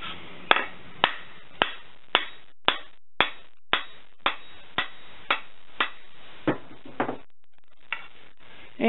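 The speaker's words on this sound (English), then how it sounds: "the hammer actually put the hurt on it a little bit" A hammer strikes an axe head down onto its handle, about fourteen sharp, evenly spaced knocks that gradually soften, then a short pause and one more hit at the end.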